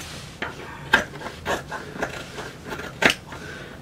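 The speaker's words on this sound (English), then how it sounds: "I'm just going to cut off the excess" Scissors snipping off excess fabric from a dog snuffle mat, a series of crisp close cuts in an uneven rhythm, about seven snips, with no talking.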